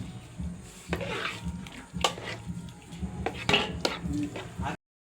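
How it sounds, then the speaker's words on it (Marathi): A spoon scrapes and clinks against a pan while mawa and cardamom are stirred together for bottle gourd halwa, making irregular close metallic knocks and scrapes over a soft background, then cutting to silence. "वेलचीच्या नंतर मावा हे बघा हे सर्व मिक्स करून घेत"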